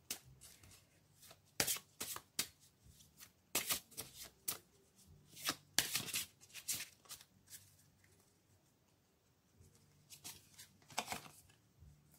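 Tarot and oracle cards are shuffled in repeated crisp riffling bursts with short pauses between them, close and moderately quiet, with no speech over them.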